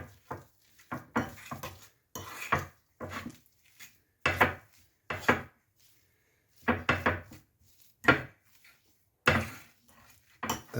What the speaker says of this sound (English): One last good stir.